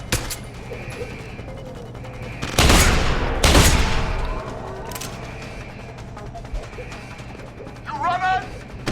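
Gunfire in the video game Deus Ex: Human Revolution, two loud heavy bursts close together in the middle amid quieter mechanical clicks, followed near the end by a shouted voice.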